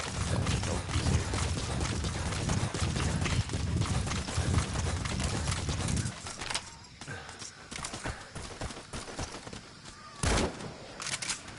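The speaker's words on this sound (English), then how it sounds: "Got a bunch of donkeys." Donkeys' hooves clip-clop in a rapid rhythmic patter in Metal Gear Solid V: The Phantom Pain, loud and close at first, then thinning to scattered lighter steps with a brief burst near the end.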